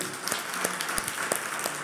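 A church congregation at a Sunday service claps in a brief, steady round of applause, with a few sharper claps standing out over the general wash of sound.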